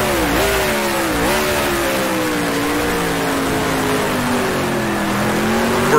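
Race car engine in the video game Grand Prix Legends, a 1966 Formula One car at the French Grand Prix, loud and close, its pitch dropping and rising through gear changes as it works through a tight corner.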